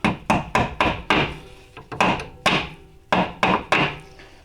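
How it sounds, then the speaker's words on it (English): Hammer blows drive a brake clip into place on an Acura RSX drag brake kit, about eleven sharp close metallic strikes in quick uneven bursts, each with a short ringing decay, no talking. "I usually just grab a hammer and hammer the rest of it on."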